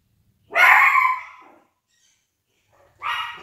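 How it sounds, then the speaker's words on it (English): Dogs indoors give two sharp, close barks, a long loud one followed by a shorter one after a pause, with near silence in between. "one of the other dogs in the other room have started barking, so she's thought she'd join in"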